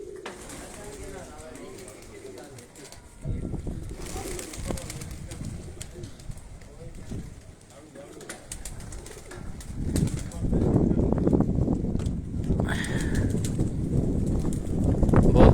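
Pigeons flap their wings and coo over a rooftop in strong wind, with gusty rushing noise building toward the end and someone talking over much of it.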